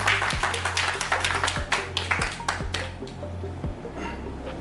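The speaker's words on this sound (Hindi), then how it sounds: "एक बार जोरदार तालियां हो जाए एवरीवन" Clapping from an audience at a cement company's dealer meet, many hands striking in a dense, lively burst with sharp individual claps standing out, steady and fairly close throughout, with no talk over it.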